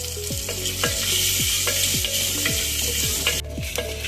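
Shallots and curry leaves sautéing in a pan for Tamil-style sambar, a steady bright sizzle with regular scraping strokes of a spatula repeating about every half second, close and clear.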